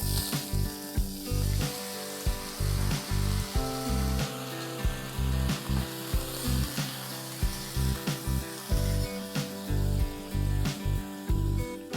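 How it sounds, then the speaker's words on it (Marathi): Long-cut slices of six medium potatoes hit hot oil already seasoned with dried red chilies and curry leaves for Karnataka-style batata upkari, giving a steady loud sizzle broken by repeated clatters and scrapes of stirring, with no talking. "इथे मी 6 मीडियम साइजचे बटाटे असे लांबट कापलेले आहेत ते घालते।"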